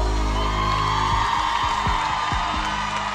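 A live concert crowd for a band cheers and whoops loudly, with some clapping mixed into a steady roar. Low thumps sound underneath.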